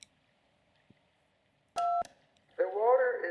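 A telephone keypad in the video game Kentucky Route Zero gives two short, clear dialing tones, the second brief and clipped, followed by a murmur of voices.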